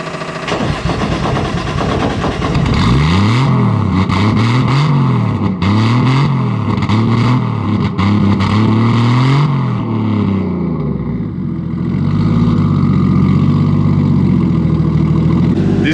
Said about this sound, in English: you guys probably already want to hear what it sounds like, so let's start it up.